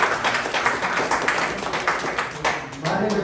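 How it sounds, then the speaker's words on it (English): An audience at a tech meetup applauding, a dense, sustained clapping that continues steadily for a few seconds and fills the room. "thank you, round of applause everyone for being here"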